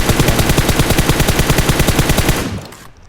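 Automatic gunfire in the video game PUBG: a loud, rapid, evenly spaced burst of shots lasting a few seconds, then cutting off into quiet.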